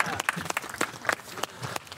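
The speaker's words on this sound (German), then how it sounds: "Applaus für den Taucher." A small group outdoors by the Spree clapping for a diver, with a handful of distinct, uneven claps close by and a little talk mixed in.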